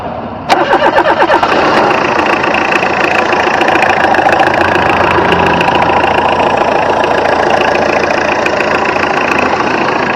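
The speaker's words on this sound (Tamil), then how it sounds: "வாங்க வண்டியோட இன்ஜின் சவுண்ட் எப்படி இருக்கு அப்படிங்கிறத கேட்போம்." A Tata Indigo car engine cranks, catches and settles into a loud, steady idle with an even mechanical chatter, heard close up with no talking.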